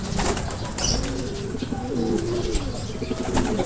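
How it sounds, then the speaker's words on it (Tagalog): Racing pigeons cooing near a loft trapdoor after a derby, with soft wing flutters and steady low coos against a constant outdoor background. "Pakikita kayo nito kung paano magpapasok ng ibon."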